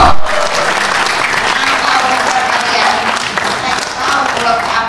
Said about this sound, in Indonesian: Tuh, tepuk tangan dong ibu-ibu.